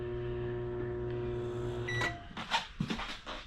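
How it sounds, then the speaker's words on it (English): A microwave oven in a 2017 Open Range Light 268TS travel trailer hums steadily, then its running tone cuts out and is followed by clunks and rattles nearby. "I have a self-explanatory microwave down here. Make sure that's empty, show you that working."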